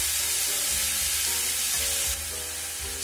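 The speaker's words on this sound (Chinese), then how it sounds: "炒这样的羊肉没有难度，不用赶紧的，动作慢的就慢炒" Lamb stir-frying in a pan for a green onion stir fry, a steady close sizzle with soft scraping of the spatula through the short stretch, no voices.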